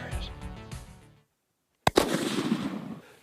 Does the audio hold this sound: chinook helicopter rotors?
no